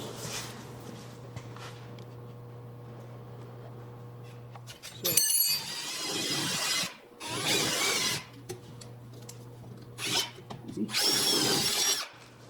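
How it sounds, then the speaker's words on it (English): Power drill with a 5/8-inch bit bursts in several spurts on a Winnebago LeSharo rear suspension, loud and close, with a steady low hum between runs and a faint metallic clink. "we'll go with the 5/8 drill bit"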